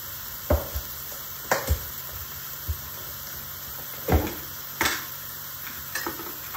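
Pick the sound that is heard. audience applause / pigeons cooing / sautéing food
sautéing food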